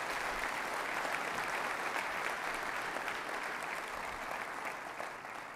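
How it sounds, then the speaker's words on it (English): A church congregation applauds steadily, a dense and even wash of clapping that holds at a constant level with no talk over it. "Let's give these boys a round of applause for helping us."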